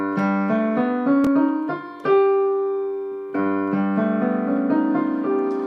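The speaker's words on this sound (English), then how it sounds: "this is your whole tone scale." A six-note whole tone scale is played as a run of sustained, ringing pitched notes that step along one after another, clear and fairly loud with no speech.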